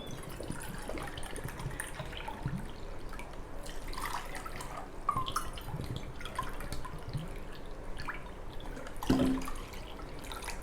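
Two cups of water poured into the wet ingredients for soft brioche burger bun dough give a faint, steady trickle and drip, with no talking.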